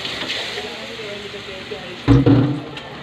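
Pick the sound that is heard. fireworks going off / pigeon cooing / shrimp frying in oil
shrimp frying in oil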